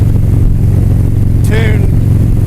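A 2016 Harley-Davidson CVO Street Glide in atomic red, fitted with a Vance and Hines full exhaust, rumbles with a loud, deep, steady idle close by, and a brief higher whine or chirp cuts through it midway.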